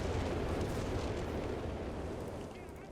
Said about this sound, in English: More artillery coming in this sector.